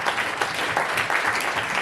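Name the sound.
audience applause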